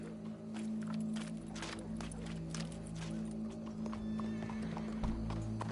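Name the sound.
horse hooves from the video game Red Dead Redemption II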